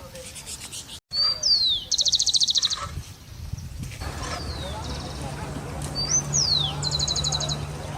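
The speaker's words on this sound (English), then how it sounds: "Rufus-collared sparrow, Zonotrichia capensis." Bright rufous-collared sparrow (Zonotrichia capensis) song in Brazil: clear whistled notes slurring downward followed by a fast buzzy trill, repeated twice over steady low background noise.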